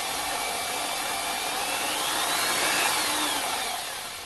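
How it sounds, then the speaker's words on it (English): A well-worn 500 watt AEG electric drill spins a cutting and grinding disc on an arbor, holding a steady, close motor whine that swells slightly toward the end, with no talking. "Here it is in my well-worn 500 watt AEG drill"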